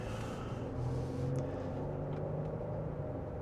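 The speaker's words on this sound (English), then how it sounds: "Let's throw it into a corner here." A Genesis GV70 3.5T SUV heard from inside the cabin as it turns into a corner, with a steady low engine and road rumble that holds at an even level throughout.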